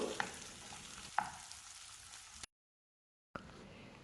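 Onions sautéing in a pan for Chettinad pepper chicken give a soft, even sizzle with a couple of sharp stirring taps, then a short silent gap before the frying resumes.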